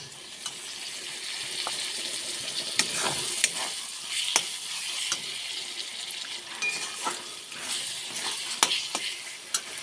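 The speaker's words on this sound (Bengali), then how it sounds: "মশলাটা ভালো করে কষিয়ে নেব।" Chicken masala with chopped tomato sizzles steadily in a pan, softly and close, broken by scattered sharp clacks of a spoon stirring and scraping against the metal.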